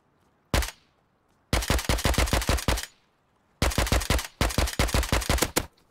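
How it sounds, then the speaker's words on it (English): A teammate's automatic rifle firing in Rust, with a single short shot followed by two long rapid bursts of loud, crisp gunfire separated by quiet pauses, heard close and alone. "Wait, it was you shooting, Mike."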